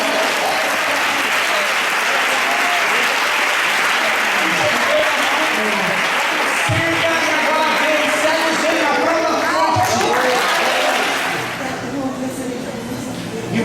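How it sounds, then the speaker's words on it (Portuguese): Church congregation applauding during a healing service, a long, dense roar of clapping that fills the room, thinning near the end while someone talks over it. "Pode aplaudir o nome de Deus."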